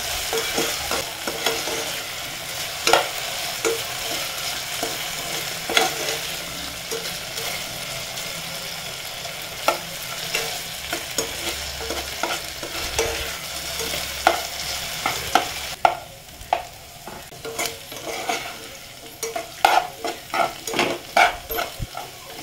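Small pieces of potato sauté in ghee while a spoon stirs and scrapes through them. The soft, continuous sizzle runs under the stirring, and in the later part the stirring turns into sharper, more frequent scraping clicks.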